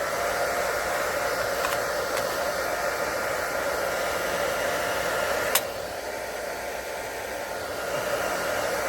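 A heat tool blows over alcohol ink on polymer clay, producing a steady, loud, continuous whooshing hiss with a brief click midway and a slight drop in level afterward.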